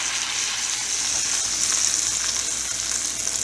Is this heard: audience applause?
no